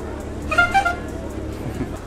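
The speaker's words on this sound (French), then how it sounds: "Il a mis un petit klaxon sympa sur la scène." A Ferrari 360 Spider gives a couple of short, moderately faint horn toots while pulling away, with crowd chatter and street noise around it.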